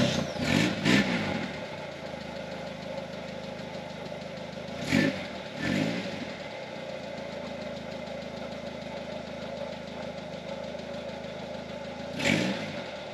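The rebuilt engine of a 1981 Mazda 626 on small 13-inch tires rumbles steadily while driving, with several short revving surges rising above the drone.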